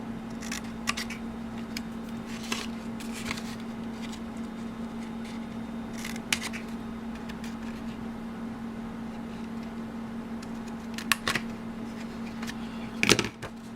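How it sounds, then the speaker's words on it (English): Scissors snip a small corner off the long flap of a paper candy box, giving a few faint, sparse cuts and rustles over a steady low hum, with a louder crisp snip near the end. "I'm going to just cut a little corner like this off so that it's a lot easier to fold."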